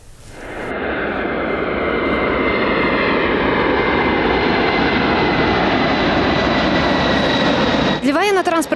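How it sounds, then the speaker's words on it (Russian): An Il-76MD-90A military transport aircraft lands at an airfield, its jet engines producing a loud, sustained roar that swells and holds throughout, with a brief electronic chirp near the end. "Сегодня Ил-76 МД-90А приземлился на аэродроме Северный."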